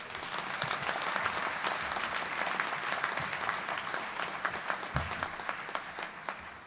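A graduation ceremony audience in Monterey applauding the Del Monte brass, a dense, steady wash of many hands clapping at moderate distance, sustained throughout with a few sharper claps poking through.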